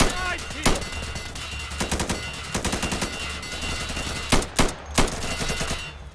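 Blaster fire in the game Insurgency, sharp automatic bursts and single cracks repeating in uneven clusters, loud and near, with voices talking in between.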